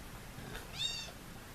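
A kitten gives one short, faint, high meow over a quiet background hiss.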